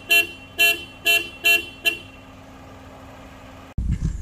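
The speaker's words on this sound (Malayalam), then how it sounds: "ഇതാണ് നമ്മുടെ ഇപ്പോൾ സ്റ്റോക്ക് കണ്ടീഷനിലുള്ള ഈ ഒരു നെക്സോണിൻ്റെ ഹോണിൻ്റെ സൗണ്ട് എന്ന് പറയുന്നത്" Stock horn of a Tata Nexon car sounding five short, evenly spaced honks in quick succession, loud and close, then quiet before a brief rumble of handling noise at the end.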